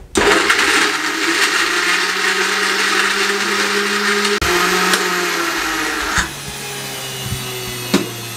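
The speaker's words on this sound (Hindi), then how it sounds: "ऊपर से कवर लगा देंगे और इसको अच्छे तरीके से ग्राइंड कर लेंगे।" A blender grinds a banana milkshake with milk and ice cubes, making a loud, steady whirring roar with no talk. The motor pitch drops briefly partway through and settles lower toward the end.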